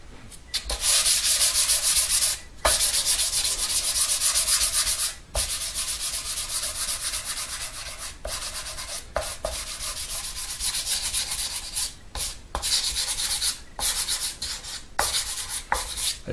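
Sandpaper rubbing back and forth over wood during a custom nine-string electric guitar build, loud close strokes in long sustained passes broken by brief pauses, with no voices.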